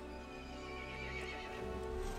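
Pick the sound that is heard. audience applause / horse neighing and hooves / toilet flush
horse neighing and hooves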